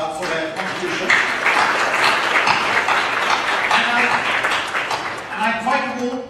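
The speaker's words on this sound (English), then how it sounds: "I think they deserve a huge round of applause for their contribution." A conference audience applauds a panel with a sustained wash of clapping through the middle, while voices talk over the start and end.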